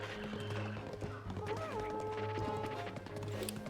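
A horse gallops in a Nintendo Switch video game, its steady hoofbeats running continuously under layered game music with tonal notes.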